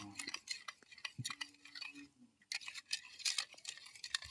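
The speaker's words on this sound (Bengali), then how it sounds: "চিনি আর লবণটাকে দিয়ে খুব ভালো মতো মিশিয়ে নেব যতক্ষণ না চিনিটা এর সঙ্গে মিশে যাচ্ছে এইভাবে আমি নাড়তে থাকবো" Sugar and salt being stirred into a dough mixture in a bowl for chocolate-filled buns: soft, irregular clinks and scrapes of a utensil against the bowl, close and quiet, with no talking.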